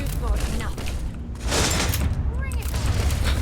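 Big Bruno gun fired in the game Starfield, with repeated loud booming shots and mechanical clanks, heard under someone talking over the gameplay.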